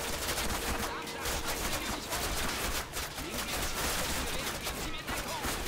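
Rapid bursts of automatic gunfire and sniper shots from a Call of Duty first-person shooter game, dense overlapping volleys throughout with a player talking over them at times.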